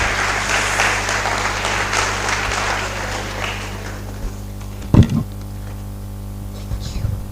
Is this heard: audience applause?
yes